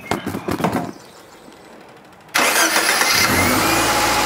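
A Subaru Legacy engine cranks briefly after a starter motor replacement, then catches and roars to life loudly, settling into a strong steady running idle.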